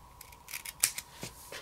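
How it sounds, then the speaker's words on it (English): Scissors snip off the extra paper while a winter-themed planner page is being decorated, a few short close crisp cuts and paper rustles at low level with no talk. "Just snip off the extra."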